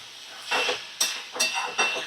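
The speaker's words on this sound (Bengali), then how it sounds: "আমি নাড়াচাড়া করে নিচ্ছি।" Soft scraping swishes as a spoon stirs a poppy-mustard banana stem mixture in a pan over medium flame, four brief strokes with a faint sizzle in between.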